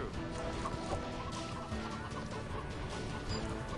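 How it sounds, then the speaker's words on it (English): Clucking from a small LEGO chicken in The LEGO Movie Videogame, heard amid busy, steady game sound with clattering effects throughout. "Oh, I really want one of those little Lego chickens, like that one hopping around."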